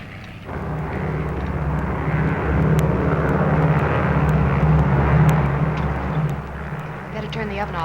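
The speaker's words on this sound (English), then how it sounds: "United Airlines mainliner service flight 608 from Los Angeles, now arriving at gate 2." A United Airlines Mainliner airliner arriving at the airport in 1951 roars steadily nearby, its engine drone building slightly and then easing as it comes in.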